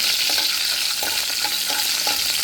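Beef strips frying in a pan for beef chilli, a steady loud sizzle with soft stirring scrapes running throughout, no voices.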